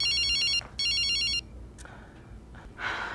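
A telephone rings twice in electronic bursts, a bright trilling pattern, then stops, leaving quiet room tone with small shuffles and a short breathy rush at the end.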